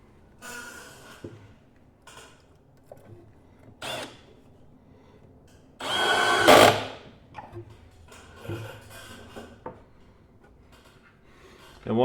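A power drill drives screws into workbench boards in several short whirring bursts, with one longer, louder run midway, amid quiet knocks and handling sounds.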